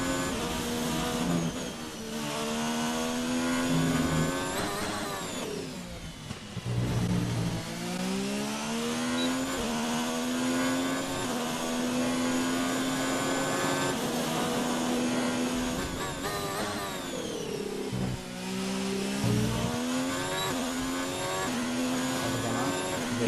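Racing car engine in a driving game played on a Logitech G29 wheel, repeatedly revving up through rising and falling gear sweeps with shifts, continuous and fairly loud, with no talking.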